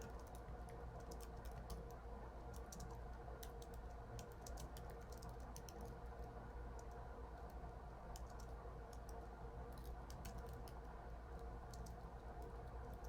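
Keys clatter on a computer keyboard in quick, irregular bursts of soft clicks, close and faint over a steady low room hum, with pauses between runs of typing.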